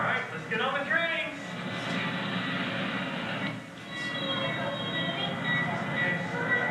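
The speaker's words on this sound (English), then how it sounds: "All right, let's get on the train." A small ride-on train rumbles along steadily with faint squealing wheels and rattling cars, while people talk over the running noise.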